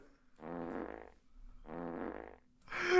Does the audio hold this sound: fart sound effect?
yes